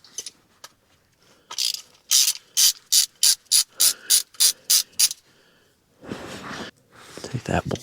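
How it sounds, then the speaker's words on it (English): Ratchet clicking in a quick run of about a dozen sharp, evenly spaced bursts as a bolt is removed from John Deere equipment, close up, followed by a short rustle. "Take that bolt out."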